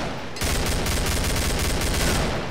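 Rapid automatic gunfire erupts in the co-op shooter game Killing Floor, a loud dense burst of shots that starts abruptly and keeps going without pause.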